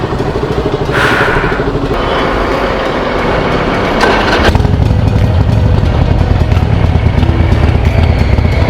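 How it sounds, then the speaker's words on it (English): A Harley-Davidson motorcycle rides alongside on an Indian highway, heard as a steady, loud engine drone mixed with heavy wind rush. The note deepens and thickens about halfway through, with no talk over it. "I have got another biker who is riding his Harley"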